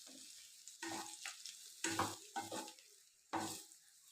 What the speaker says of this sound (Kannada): ಎಣ್ಣೆ ಕಾದ್ಮೇಲೆ ಮಸಾಲೆ ಪುಡಿ ಹಾಕಿ ಕಲಸಿಟ್ಟಿದ್ದೀವಲ್ಲ ಆ ಬೆಂಡೆಕಾಯಿನ ಹಾಕ್ತಾ ಇದ್ದೀನಿ